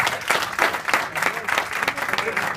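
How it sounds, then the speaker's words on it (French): Steady applause from an audience at a company end-of-year dinner with a magician, dense clapping throughout with a bit of crowd noise mixed in. "Est-ce que vous pourriez vous lever, Marc, venir me rejoindre et vous faire applaudir par tout le monde"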